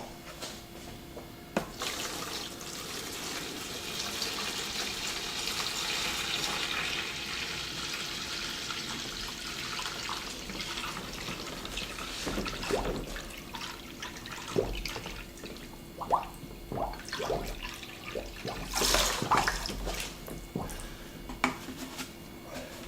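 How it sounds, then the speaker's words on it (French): Water with diluted 20-20-20 fertilizer poured into a plant tray during transplanting in a winter garden, heard as quiet trickling, splashing and dripping, softer in the middle with scattered drips near the end. "je vais mettre de l'eau dans le plat du bois"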